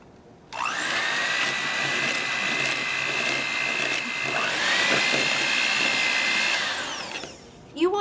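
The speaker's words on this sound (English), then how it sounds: "you take your mixer and you start mixing it" An electric hand mixer whirs in a bowl of tuna for cat treats, switching on with a high motor whine that dips and rises as it works, then winds down and cuts off with a brief clatter.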